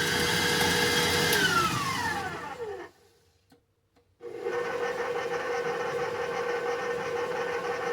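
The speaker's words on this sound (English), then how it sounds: "I added my egg and my 2 teaspoons of vanilla, and then I'm just going to mix this" An electric mixer beats gingerbread cookie dough with egg and vanilla, a steady whirring drone that winds down in pitch, falls silent for about a second, then starts up again and runs evenly.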